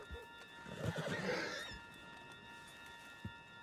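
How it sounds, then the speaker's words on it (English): A horse in the video game Red Dead Redemption 2 whinnies loudly and shakily for about a second near the start, with a few soft hoof clops before and after and no talk. "Put Strauss on the back of John's horse, and let's get out of here!"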